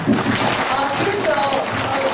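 Audience applause at an academic conference in a hall, a brief burst of clapping with voices mixed in.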